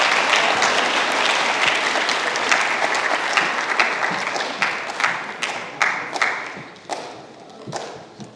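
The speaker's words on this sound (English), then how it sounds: "Let's give them one more round of applause, these amazing speakers." Audience at a school presentation applauds a group of speakers, a dense, sustained wash of many hands clapping that thins toward the end, with individual claps growing more distinct as it dies down.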